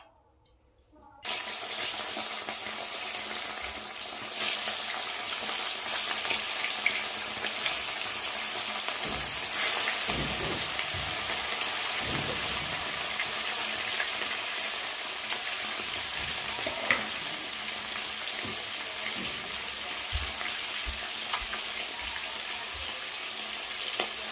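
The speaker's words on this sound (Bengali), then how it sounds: "মাছগুলো এবার ভেজে নেব সর্ষের তেল দিয়ে দিলাম কড়ায়" Pieces of fish fry in mustard oil in a wok, starting abruptly after a brief quiet moment and then crackling and spitting loudly and continuously, with occasional stirring clatter.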